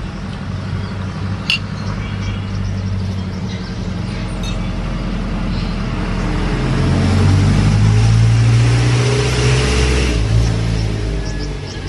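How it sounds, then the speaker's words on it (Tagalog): A heavy truck rolls past an outdoor cooking spot, its low rumbling engine swelling gradually to a loud peak near the middle and then easing off, with a couple of faint clicks early on. "Yung dumaan na truck."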